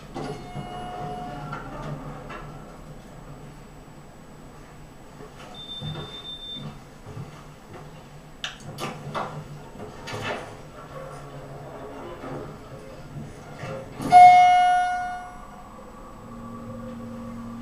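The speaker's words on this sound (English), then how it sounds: "This is also the elevator that got used in my video, in my YouTube trailer." An elevator runs with a low mechanical hum and soft rumble, broken by a few clunks and a brief rising whir and clatter as the doors move partway through.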